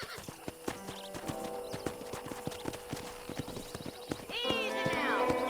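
Horse hooves clip-clop in a steady, close rhythm in the Red Dead Redemption video game, building to a loud whinny near the end, over faint background tones.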